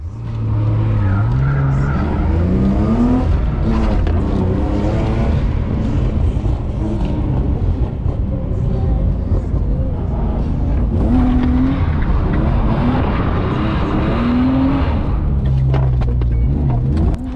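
A BMW E36 drifts around a track, engine howling as revs rise and fall with repeated long tire squeals across the lap, loud and close from inside the car.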